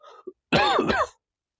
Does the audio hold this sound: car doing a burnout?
no